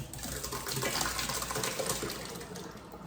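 Chopped pickle relish with its brine is poured into a colander set in a kitchen sink, a steady wet gushing and splattering that runs for a few seconds, close and fairly loud, no talk.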